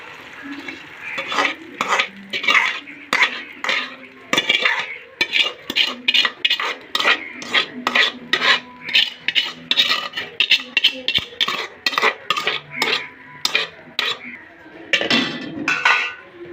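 Beaten egg mixture hits a pan and is stirred briskly, a series of quick scraping and clinking strokes of a utensil against cookware, near and fairly loud, with a faint sizzle underneath.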